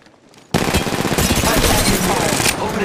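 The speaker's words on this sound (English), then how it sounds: "Opening fire on the enemy." Sustained automatic gunfire in Apex Legends Mobile bursts in after a quiet moment and hammers on continuously, loud and close, with rapid overlapping shots.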